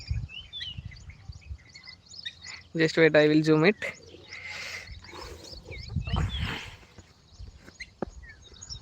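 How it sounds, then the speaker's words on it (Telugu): Chirping birds call intermittently in the background of a rice paddy field while a person speaks briefly, with a louder tonal call standing out partway through. "బర్డ్స్ సౌండ్ చూడండి ఎలా వినండి ఒకసారి"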